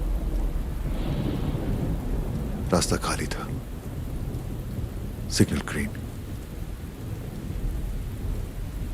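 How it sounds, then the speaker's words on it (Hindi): Heavy rain pours steadily in a night scene from a Hindi action film, with thunder rumbling low underneath and someone speaking briefly over the downpour. "उस रात बारिश हो रही थी।"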